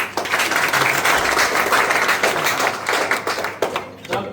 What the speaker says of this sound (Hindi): ताली बजाओ जरा इनके लिए।